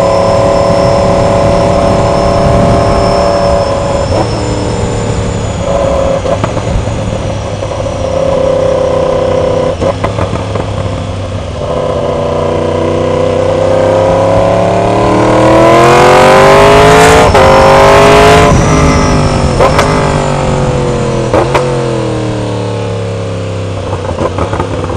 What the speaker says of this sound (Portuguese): E a marcha dessa moto é longa pra caramba